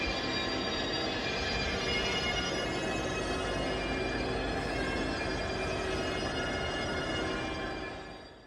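A Royal Scotsman train hauled by a GB Rail Freight locomotive in Royal Scotsman livery rumbles along the rails in a steady, broad, continuous roar that fades slightly at the end.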